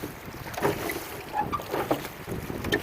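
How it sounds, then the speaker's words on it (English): Oars work a rowboat across a windy lake, giving soft irregular splashes and knocks over steady wind and water noise, fairly close and moderate in level with no talk. "rowing straight for the shoreline"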